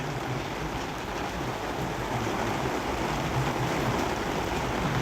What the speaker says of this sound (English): Man, this rain is loud.